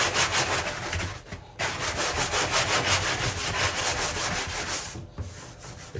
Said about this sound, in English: So I'm going to go ahead and kind of start scuffing this up here.